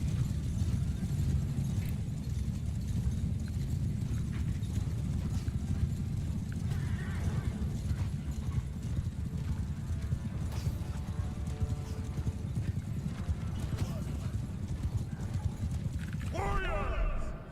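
Cavalry hooves in Mount and Blade: War Sails, a dense steady clatter of many horses moving together at night in the desert, with a whinny near the end and voices talking over the din.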